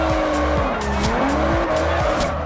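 Loud tire squeal from a car drifting in the Forza Horizon racing game, sustained screeching layered with engine revving and shifting pitch, with no talking.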